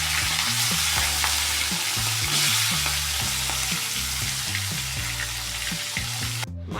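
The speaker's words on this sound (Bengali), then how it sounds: "কাঁটাগুলোকে আমি ভেজে নেব" Bhetki fish bones fry in hot oil in a wok, giving a steady, loud sizzle with clinks of stirring against the pan throughout.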